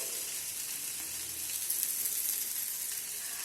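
Samosa filling sizzles steadily as it fries in a pan, a continuous close crackling hiss at an even level with no pauses and no voices.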